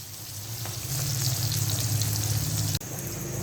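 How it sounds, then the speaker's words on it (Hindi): About four spinach pakoras deep fry in hot oil, a close, continuous crackling sizzle that briefly cuts out near the end before resuming. "अब हम इन पकौड़ों को अच्छे से कर लेते हैं फ्राई।"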